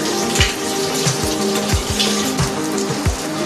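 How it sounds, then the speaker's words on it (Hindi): Puris fry in hot oil, a steady loud sizzling hiss with bubbling and repeated low pops throughout. "इसको फ्राई होने दीजिए।"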